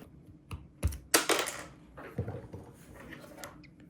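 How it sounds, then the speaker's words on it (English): Plastic clicks and light clatter as a keycap is pried off a NuPhy Air75 V3 low-profile wireless keyboard with linear red nano switches, a few close sharp taps and scrapes over about four seconds. "Let me actually take off a keycap and check."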